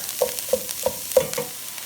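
Food sizzles in a hot pan, with a few distinct pops or taps spaced about a third of a second apart over a steady frying hiss.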